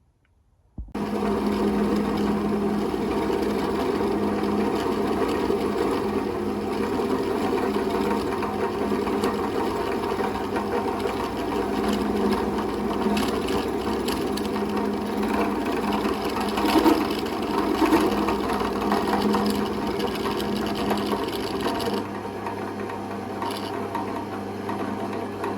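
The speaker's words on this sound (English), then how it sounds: "So what I need to do now is machine up the brake arm." Machining a rear brake arm for a Velocette KTT motorcycle special on a lathe or mill, a steady whirring mechanical drone with a faint ticking rhythm, continuous and close, with no talk.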